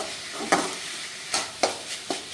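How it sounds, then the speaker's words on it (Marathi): Matki (moth bean) curry is stirred in hot tempering, a soft background sizzle broken by several sharp scraping strokes of the spatula against the pan. "भाजी करतोय ती अगोदर अशा पद्धतीनं फोडणीत टाकायची छान अशी परतायची फोडणीमध्ये"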